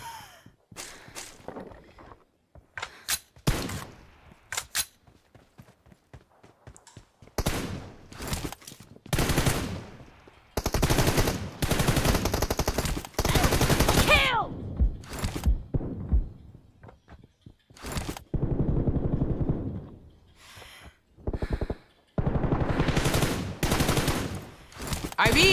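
Video game gunfire arrives in separate loud bursts and single cracks spread across the scene, with quiet gaps between exchanges and occasional breathing sounds.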